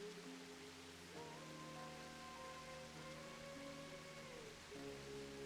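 Steady hiss of a video game waterfall built into a fireplace, falling like rain, with soft sustained tones humming underneath throughout.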